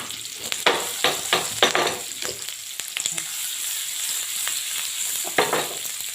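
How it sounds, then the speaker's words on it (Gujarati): Chopped onion and green chili with dry spices frying in a pan for a curry base. The sizzle is steady and close, with a few sharp scraping stirs of a spoon early on and again near the end. No one speaks. "અને આપણે કાચું પાકું શેકવાનું છે."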